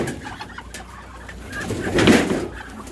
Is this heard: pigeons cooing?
yes